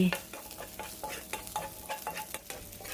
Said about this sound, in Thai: ตอนนี้ก็เอาพริกหยวกลงก่อนเพื่อให้พริกนุ่ม ผัดก่อนค่ะประมาณ 1 นาที